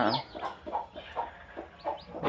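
A hen clucks repeatedly in short, rhythmic bursts, close by, with faint chirps from other birds, likely day-old chicks, in the background.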